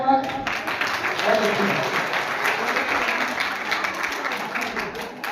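An audience at a school function applauds with sustained, steady clapping that fills the room and slowly fades, with a voice speaking briefly at the start.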